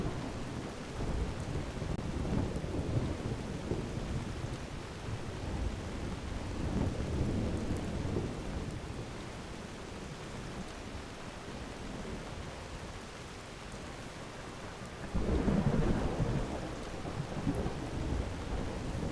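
Steady rain pours in Skyrim's outdoor weather, with low rolling thunder swelling several times and a heavier rumble near the end, a continuous stormy wash with no voices.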